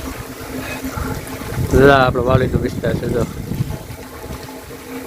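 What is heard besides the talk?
heavy rain falling over farm area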